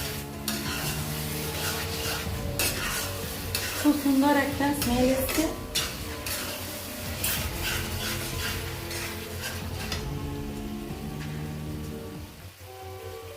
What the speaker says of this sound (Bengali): হাফ চামচ গোলাপ জল, হাফ চামচ কেওড়া জল আমরা কড়াইয়ের মধ্যে দিয়ে দিলাম। এরপরে সেটা নাড়া হচ্ছে।